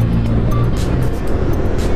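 A motorbike on a Sunday-morning group ride toward Pangalengan passes with a steady, fairly loud engine drone and low rumbling hum that holds for the whole two seconds.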